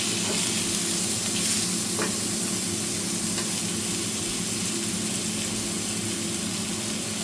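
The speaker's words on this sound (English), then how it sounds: "Meanwhile, we'll flip the steaks. Just get some of the oil into the middle of the pan there." Herby lamb steaks sizzling in an oiled pan before garlic butter goes in: a loud, even, continuous fry hiss up close, with a couple of faint ticks and no speech.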